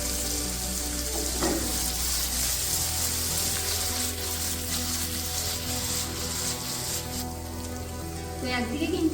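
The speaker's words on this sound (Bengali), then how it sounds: "আমাদের পনিরটা যতক্ষণ ভাজা হচ্ছে" Cubes of paneer fry in hot oil in a pan for matar paneer, giving a steady, dense sizzle throughout with a low hum beneath and a few faint clinks near the end.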